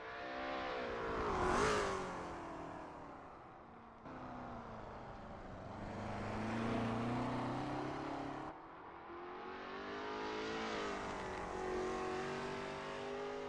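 A Lola T70 MkII Spyder race car in a racing game at Sebring International Raceway revs loudly through rising and falling gear changes, the engine note climbing and dropping in several long sweeps.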